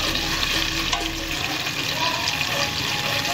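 Garlic-ginger paste sizzles loudly and steadily in hot oil in a pan for chicken fried rice, with a continuous bright frying hiss and faint stirring scrapes throughout.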